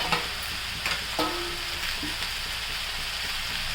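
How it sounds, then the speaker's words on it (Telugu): Paneer mix curry frying in a pan while being stirred, a continuous hiss of sizzling with a few scraping strokes of the spoon near the start, no talking. "మొత్తం ఇలాగా కలిపించుకోవాలన్నమాట. వేగుతుంది ఇది."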